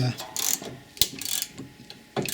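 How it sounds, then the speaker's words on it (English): A ratchet wrench snugs up rear brake caliper bolts during a disc and pad change on a car with an electronic parking brake, giving short bursts of close, bright clicking separated by brief pauses, with no talking. "doing them up a little bit with the wrench here before we do them up to spec."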